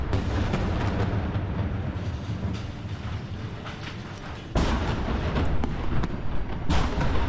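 Artillery or gunfire rumbles in wartime fighting around Toretsk: a loud, continuous, heavy roar with a sudden louder surge partway through.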